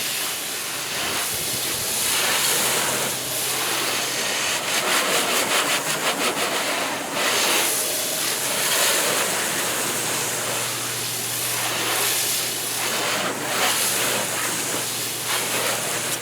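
A garden hose sprays water to rinse soap off a car washed in direct sunlight, producing a steady broad hiss that runs continuously and fairly close, with no talking.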